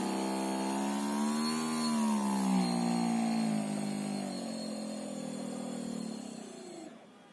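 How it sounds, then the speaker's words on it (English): A brushless DC motor driven through a potentiometer knob gives a steady electric whine that rises and then falls in pitch as its speed changes gradually, sounding close and continuous before fading at the end. "we can see that the speed of the brushless DC motor is changing"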